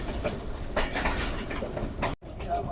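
A train running through Gunna Kalan railway station on the Lahore to Sialkot line gives a dense, close rumble with rattling and faint wheel squeal, cut by a brief dropout near the end.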